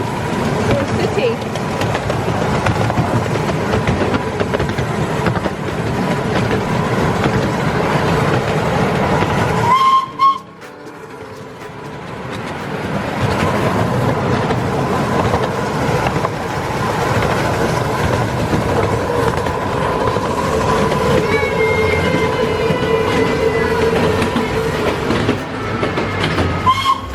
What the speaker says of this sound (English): We're near the end of our train ride, guys, nearly.